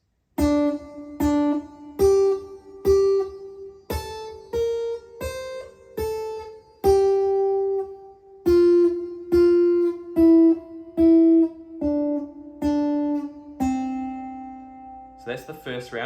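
Full guitar riff played without a capo, a steady run of clean plucked notes, some repeated in pairs, ringing close and alone for about sixteen seconds before a final sustained note.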